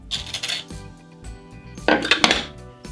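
Ginger scraped against a very hard shark skin grater, giving short bursts of gritty, clinking rasps up close with brief pauses between strokes and no talk.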